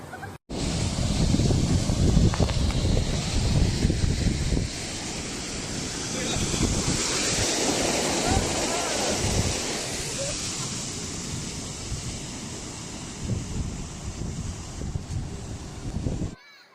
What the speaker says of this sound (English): This tidal event is already known for its powerful waves